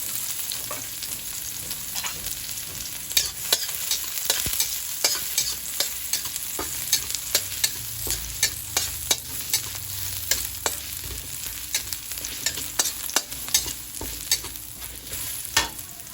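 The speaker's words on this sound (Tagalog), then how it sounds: "Mainit na yung ating mantika. Sobrang init na ito yung ating bawang." Garlic frying in very hot cooking oil makes a steady sizzle, close and constant, with sharp crackling pops scattered throughout and no talking.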